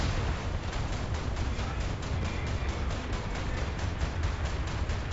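Naval cannons on a boat in War Thunder fire in a rapid, regular string of heavy booms, loud and continuous, with no talk.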